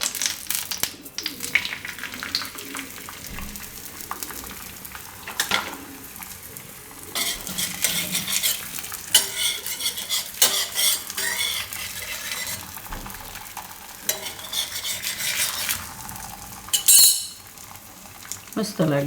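Radish paratha roasting in ghee on a griddle gives a steady, moderate sizzle with scraping and stirring clatter throughout, a sharp metallic clink near the end, and no talking.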